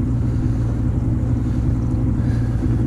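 A fishing boat motor idles through high, muddy water, giving a steady low rumbling drone mixed with wind buffeting the microphone and no talking.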